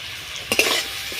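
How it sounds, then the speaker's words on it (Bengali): Spices with salt and cumin powder stirred and sautéed in a pan for a banana flower and shrimp curry. A short burst of scraping stirs against a steady close sizzle. "দিয়ে একসাথে ভালো করে কষিয়ে নেব।"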